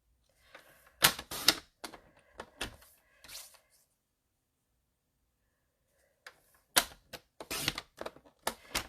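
A 3-inch-wide paper strip is cut for an accordion arched fun-fold card, two clusters of crisp snapping, crunching cuts separated by a few seconds of silence.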